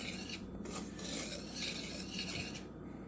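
Sugar stirred gently in a saucepan over medium heat gives a steady, close scraping rasp, continuous and fairly soft, with no voices.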